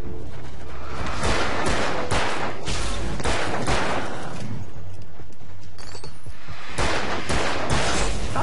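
Enemy gunfire in the video game Alan Wake, dense repeated shots loud and close, bursting in clusters throughout with no talk over it.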